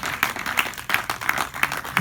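A church congregation breaks into applause during a worship service, with a dense, steady patter of many hands clapping and rhythmic accents landing about every third of a second, sounding fairly near and continuous.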